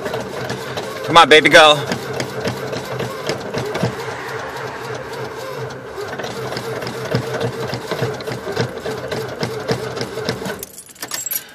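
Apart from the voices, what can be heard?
1986 Dodge engine cranking on cold start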